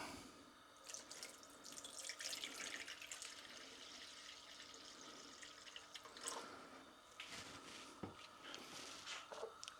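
Water pours steadily into a pan over cod fillets, soft and fairly distant, with faint splashes and drips throughout.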